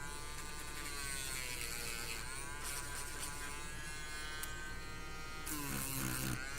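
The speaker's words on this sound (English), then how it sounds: "let's bring the speed on this Dremel down a little bit." Dremel rotary tool running at reduced speed, a continuous close whining buzz with steady pitch throughout, faint clicks near the end, no talk.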